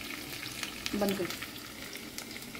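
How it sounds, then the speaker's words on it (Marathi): Green chilies and curry leaves fry in hot oil for a tempering, crackling and sizzling close by with some stirring, while a voice briefly speaks partway through. "यो ग्रीन चिली घातला. मातशें ताका फ्राय करून घ्या."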